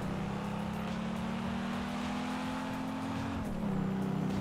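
A G-Wagon truck driving in GTA 5, its engine droning steadily at a constant pitch, then dipping slightly as it shifts, a continuous close motor sound with no voices.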